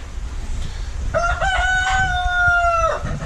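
A rooster crows once, loud and close, a long drawn-out call over a low outdoor background.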